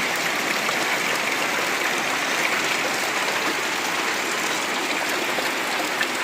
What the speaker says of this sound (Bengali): আর বৃষ্টিটা বেশ ভালো জোরেই পড়ছে